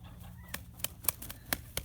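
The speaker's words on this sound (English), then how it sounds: "This is a White Crested Polish standard size rooster." A White Crested Polish standard rooster among bantam chickens gives several short clucks and scratchy bursts, spaced irregularly and fairly close, over a low steady background hum.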